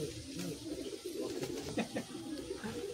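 A caged pair of red Giribaz pigeons coos softly, with low throaty coos repeating in quick succession, close by and fairly quiet.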